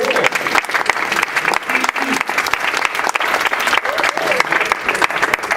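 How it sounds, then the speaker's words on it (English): Sustained applause from an audience, dense and steady clapping throughout with a few brief voices mixed in. "Have a round of applause, everybody."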